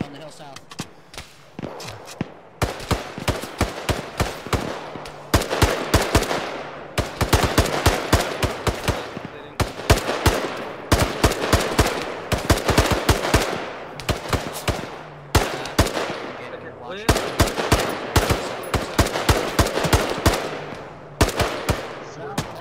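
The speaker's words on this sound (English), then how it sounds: "We're still taking fire" Rapid bursts of automatic gunfire in the military shooter Arma 3, dense volleys of sharp cracks repeating in long strings, with a short lull near the start and voices talking over radio between shots.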